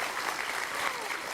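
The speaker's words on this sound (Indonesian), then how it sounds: "Tepuk tangan dulu buat mereka berdua." Studio audience applause fills an Indonesian TV talk show set, a dense, steady wash of clapping hands at close range, continuous through the whole short moment with no voices on top.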